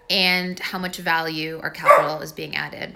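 A dog barks in short, yappy bursts mixed in with someone talking, the barks close and fairly loud, overlapping his speech.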